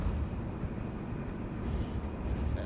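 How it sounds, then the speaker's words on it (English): Train wheels rumbling over track joints on the Midland Mainline in Train Sim World 3, a steady low rolling rumble with faint rhythmic knocks, moderately quiet and continuous, without talk. "Love the sound of this thing slapping over the tracks."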